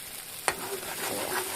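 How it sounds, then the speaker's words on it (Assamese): Masala spices frying in hot oil in a pan while being stirred for a chicken curry, a steady soft sizzle with one sharp clack of the spoon against the pan near the start. "মছলা মই ধুনীয়াকৈ ভাজি ল'লোঁ"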